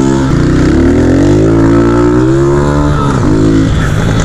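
A loud motorcycle engine revs up without using the clutch and holds a high, rising whine before dropping back, close by and without speech.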